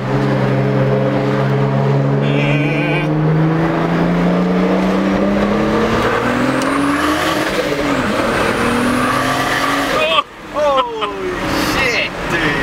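Turbocharged BMW E46 pulling hard at 20 psi boost, engine tone climbing steadily for several seconds, then an abrupt lift-off with tire chirp and shifting noise; loud and close, with voices briefly audible.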